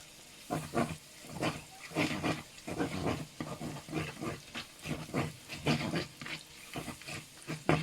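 Thai chili paste stir-fried with garlic in a fairly dry pan, rhythmic spatula scrapes and stirring strokes over a soft continuous sizzle, close and without talk.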